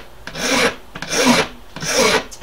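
A file scrapes a bone fish hook in three steady, close strokes, each a loud rasping rub with short pauses between them and no talking.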